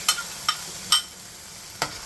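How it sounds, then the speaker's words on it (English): Tomato passata and green chilies get stirred into a sizzling fish curry base, with four sharp scraping strokes over a constant soft frying hiss. "We need to give that a good stir,"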